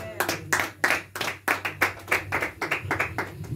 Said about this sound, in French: Je peux acclamer pour la gloire de Dieu.